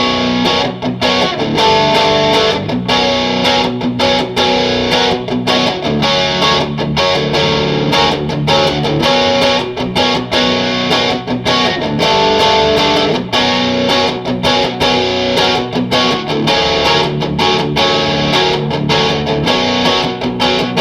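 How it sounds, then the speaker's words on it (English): Heavily overdriven electric guitar with humbucker pickups, a Devilcat Francine amp played loud and continuous, chunky chords with choppy palm-muted rhythm, dense and saturated throughout with no voices. "let's go ahead and do some audio takes of the overdrive in this"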